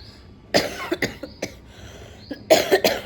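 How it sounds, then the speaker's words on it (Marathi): A series of close, harsh wet coughs in separate bursts, with a cluster of heavier chesty coughs at the end. "माझा ना हा जो ड्राय खोकला आहे आता तो कन्वर्ट झाला आहे वेट खोकल्यामध्ये"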